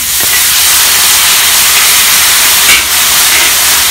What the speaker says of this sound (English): Slowly add in the soya sauce and oyster sauce solution.